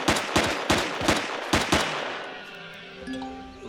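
Rapid gunfire from the video game Empyrion: Galactic Survival, six loud sharp shots in a quick uneven burst, each with a short ringing tail, then fading to quiet ambient hum.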